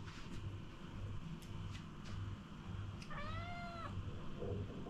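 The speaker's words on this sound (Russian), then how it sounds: "Да, кошка тоже вам передала привет." A domestic cat indoors gives one clear, drawn-out meow about midway, standing out above a low steady room rumble; there is no talk.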